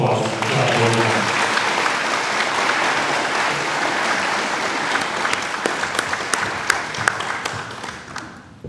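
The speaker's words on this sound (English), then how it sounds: "Give them a big round of applause." A crowd at a police awards banquet breaks into loud, sustained applause that gradually thins into scattered individual claps toward the end.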